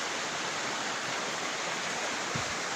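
A stream flows beside a bridge on a hiking trail near Loch Lomond, a steady broadband rush of running water close by that fills the whole stretch without pause or speech.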